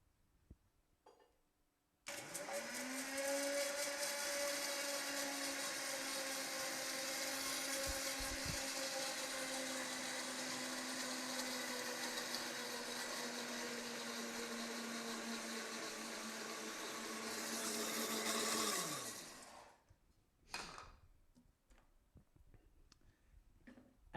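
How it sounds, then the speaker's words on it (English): A blender runs steadily on low for about seventeen seconds while oil is drizzled in for a slow vegan emulsion, its motor whine constant and close, then it winds down and stops, followed by a few clicks and handling noises. "I'm going to turn this blender on low, and I'm going to add in the oil on a slow emulsion."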